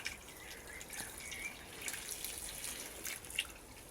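Water soaks into garden soil at the base of potted plants as they are watered at the roots, with soft, scattered drips and trickles close by over a quiet background, without any talking.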